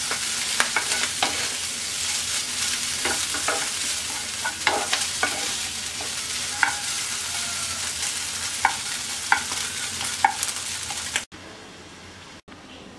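Chicken pieces fry in a hot pan with a steady, dense sizzle and occasional stirring scrapes, loud and close throughout before cutting out abruptly near the end.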